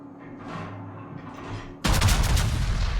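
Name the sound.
battleship Missouri firing a gun salvo in World of Warships video game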